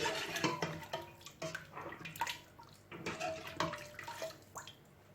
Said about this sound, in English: We stir everything together.